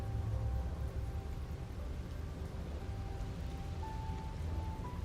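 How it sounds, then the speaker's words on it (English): Steady rain falls in the video game Slay the Princess, a continuous soft hiss and patter with a low rumbling bed and no voices. "It's raining."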